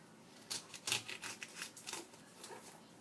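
A big kitchen knife slicing through fruit, heard as a quick series of faint, crisp cutting and tapping sounds on a board, close up and quiet.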